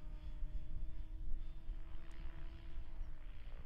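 An RC helicopter rotor hums steadily during an inverted autorotation, a faint, even drone with a constant whine that holds without sharp change, heard alone at a distance.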